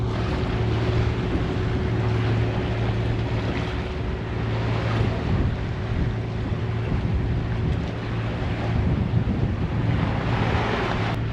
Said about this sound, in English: The speedboat rocket is flying by.